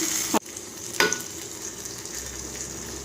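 Chopped banana flower drops into a frying pan with tomatoes for rasam and is stirred, giving a sharp sizzle, a couple of scraping utensil strokes, then a steady low frying hiss.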